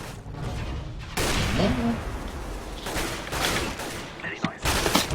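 Rapid bursts of gunfire and explosions in a first-person shooter video game, loud and clustered, with mouse clicks and some talk over the action.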